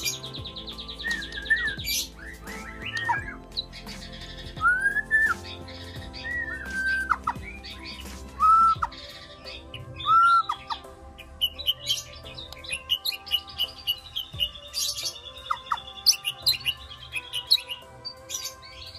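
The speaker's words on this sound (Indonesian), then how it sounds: "Ini kita pancing-pancing dulu burungnya, biar kalian lihat, oh begini nih murai batunya" A white-rumped shama sings a varied string of clear, rising whistles and chirps, repeated in short phrases. The song is close and lively, with no talking.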